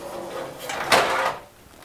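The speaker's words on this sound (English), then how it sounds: "Okay, now the chassis should pull right out. And it slides." The chassis of a Cougar Conquer 2 PC case slides out on drawer-style rollers, giving one brief, moderately loud rolling swish that rises and fades, with no talking.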